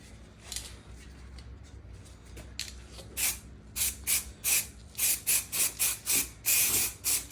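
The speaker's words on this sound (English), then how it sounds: "I'm gonna hit it first with the orange, the light orange Montana rust paint" Light orange Montana rust spray paint sprayed from a rattle can onto a Volkswagen for a faux patina, soft hissing at first, then a run of short, loud, close bursts in an even rhythm.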